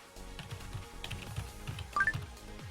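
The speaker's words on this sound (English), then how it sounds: "we're gonna be typing a lot of things." Quiet, rapid keystrokes on a computer keyboard clatter in an uneven stream of soft taps, close by and continuous, with no talking.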